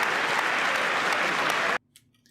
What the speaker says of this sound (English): People were clapping.